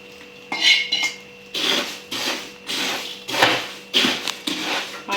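Poha chivda is mixed and spread in a pan with the heat switched off. A spoon scrapes and clatters against the metal in repeated, rhythmic strokes, loud and close, roughly one every half second.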